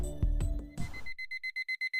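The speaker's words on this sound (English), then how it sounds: "Ring. The sound of my alarm clock is a little delayed" An alarm clock starts ringing after a few dull knocks, settling into a rapid run of short, evenly spaced electronic beeps that sound close and clear.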